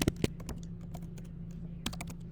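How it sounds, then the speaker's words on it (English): Typing on a computer keyboard, a quick uneven patter of close key clicks with a couple of louder strikes at the start and another near the end, over a low steady hum. "I'll type it in the comments."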